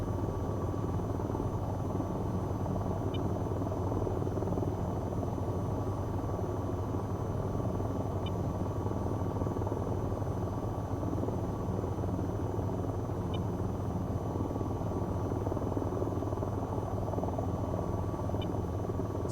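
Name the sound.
AH-94 helicopter flying in video game VTOL VR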